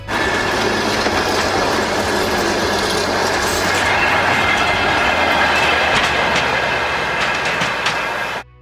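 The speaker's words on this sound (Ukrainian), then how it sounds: "Останні хвилини і поїзд вирушив на Київ" A passenger train departing for Kyiv rumbles steadily with clickety-clack wheel noise and faint squeals, loud and close throughout with no voices.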